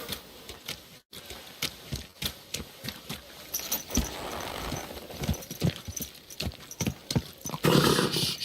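Horse hooves clopping in an irregular rhythm in the medieval video game Kingdom Come: Deliverance II, with jingling tack and a brief rougher burst near the end, moderately close and without talk.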